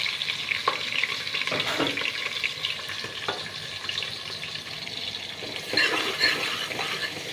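Fennel seeds and small onions frying in ghee while being stirred, a close, continuous sizzle with the scrape and clink of a spoon moving through the pan, and no talking.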